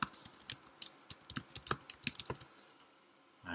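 An email address goes in on a computer keyboard in a quick, uneven run of crisp, close key clicks lasting about two and a half seconds, then stopping, with no talking.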